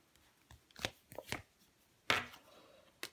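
Tarot cards are shuffled and drawn, giving a few short papery riffles and snaps spaced irregularly across a quiet background with no talking.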